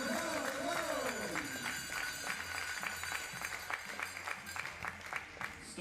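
Spectators clapping in rhythm at a junior 50m rifle three-positions duet shooting competition, steady faint applause with regular beats under an announcer's voice and some crowd noise.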